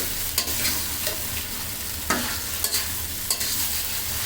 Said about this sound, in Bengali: এখন ভালো মতো নেড়ে চেড়ে কষিয়ে নিব